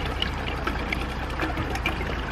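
Warm tap water pours into a small measuring cup, filling it to one liter, with a soft, steady trickle and splash at low volume.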